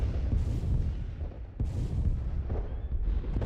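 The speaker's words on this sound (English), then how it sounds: "Just kidding, they are bombing." Bombing explosions in the space strategy game Master of Orion: Conquer the Stars, heavy low booms rolling continuously with fresh bursts near the start and middle, loud and dense with no talk.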